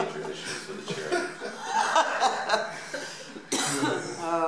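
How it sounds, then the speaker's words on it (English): Coughing brought on by cat hair indoors, a few raspy coughs mixed with chuckling and laughter from a person nearby, close and fairly clear. "It's making me cough in here though from all this cat hair."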